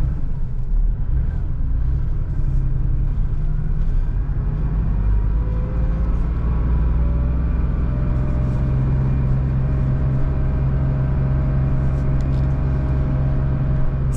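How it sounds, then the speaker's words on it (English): A vintage air-cooled Porsche 911 flat-six idles as a steady, loud low rumble with a continuous droning hum, heard from inside the car and holding even throughout. "Porsche in general has a very distinctive sound out of their 6-cylinder engines"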